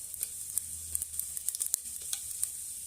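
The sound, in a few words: bay leaf and whole spices frying on low flame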